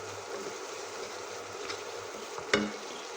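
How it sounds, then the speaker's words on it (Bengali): Spice paste of turmeric, cumin and coriander powder stir-fried in a pan for a prawn malai curry, a steady soft sizzle with faint scraping and one sharp clink near the end. "দিয়ে দিচ্ছি আধা চামচ ধনে গুঁড়ো। এবার মশলাটাকে কষিয়ে নিব।"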